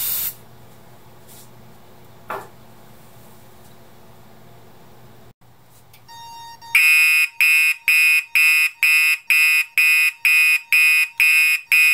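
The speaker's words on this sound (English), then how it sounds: "This is going to go off pretty quick, though, because this smoke detector is actually quite sensitive." A Radionics D7412G fire alarm panel's smoke detector alarm sounds loudly in a steady, repeated pulsing beep, about a dozen evenly spaced bursts, after a stretch of spraying hiss and a brief low tone.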